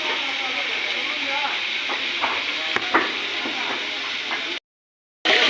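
Chicken frying in a large pot for a big iftar meal, a steady broad sizzle and hiss with faint stirring clinks, continuous until it cuts to silence near the end.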